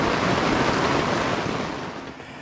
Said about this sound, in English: listening to the rain come down